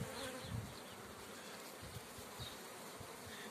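Buckfast honey bees buzz in a continuous, faint drone around an open hive during an inspection of the colonies and their frames, with no speech.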